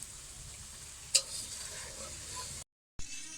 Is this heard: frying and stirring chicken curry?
yes